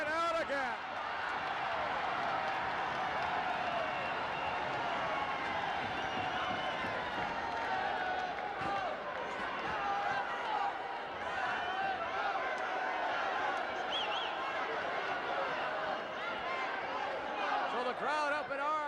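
A wrestling arena crowd roars and reacts steadily throughout a 1977 WWWF Championship Wrestling match as Ken Patera goes down, a dense continuous cheer at moderate distance.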